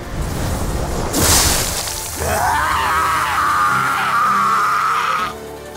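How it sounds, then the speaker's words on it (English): In the Tsukihime video game, a man screams as he is cut in half by a great spear: a crashing whoosh and impact, then a loud, sustained, wavering scream that holds for about three seconds before cutting off. "The man screams as he's cut in half."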